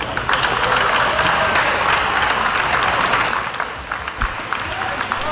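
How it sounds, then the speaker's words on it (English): A crowd applauds and cheers for fighters entering a karate match at St. Thomas's, dense clapping held loud and steady throughout, with voices mixed into the din. "Shall we welcome them with a loud cheer?"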